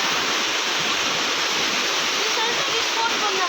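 Water flowing around a temple at Dharmasthala, a steady broad rushing that holds at one level throughout, loud and close, with no break or change.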